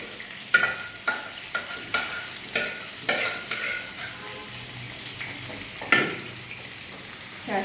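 Custard made from custard powder and milk is stirred in a pot, giving a steady series of soft, close scraping strokes with a few sharper knocks, no talking.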